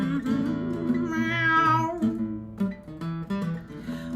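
A cat gives several drawn-out, wavering meows, close and fairly loud, the middle cry the longest, followed by shorter chirps.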